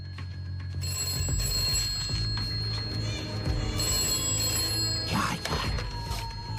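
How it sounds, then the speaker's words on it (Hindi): A telephone bell rings insistently in repeated bursts, with voices talking underneath and around the ringing. "जल्दी से फोन उठाओ ना।"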